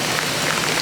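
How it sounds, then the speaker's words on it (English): Heavy rain pours down steadily at the Dog on the Tucker Box stop, a dense, continuous hiss of drops drumming on surfaces close by, with no voices. "Dog on the tucker box is absolutely smashing down with rain"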